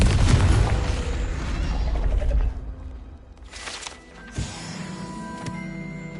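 Confringo fire-blast spell in Hogwarts Legacy on PlayStation 5, a loud rumbling burst that fades after a couple of seconds, followed by a softer second boom with a sharp crack and a lingering tonal hum.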